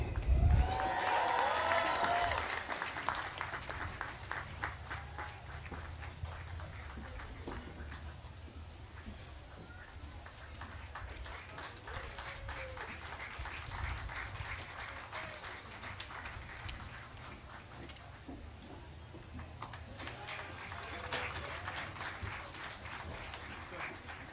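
Audience at a university graduate and professional commencement applauding the graduates, a sustained dense wash of clapping lasting the whole stretch, with a brief cheer and a voice at the start.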